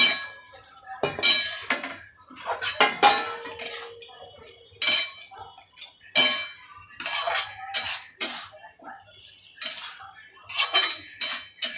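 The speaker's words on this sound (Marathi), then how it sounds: "याला चांगलं आपण मिक्स करून घेऊया." Metal spoon scraping and clinking in a pan while stirring small chopped potato pieces and peas into masala for a Maharashtrian vatana batata bhaji, in repeated close bursts with no talking.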